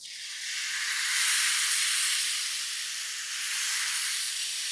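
Dhirde batter sizzling as it is poured onto a hot oiled tava over a high flame: a steady, close, loud hiss that swells and holds without pause, with no talk.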